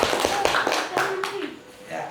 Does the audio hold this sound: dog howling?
no